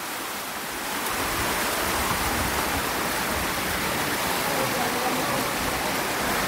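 Water flowing steadily down the stone paths at Galta Ji temple in Jaipur, a continuous broadband rushing that swells after the first second and holds evenly, close and fairly loud with no voices.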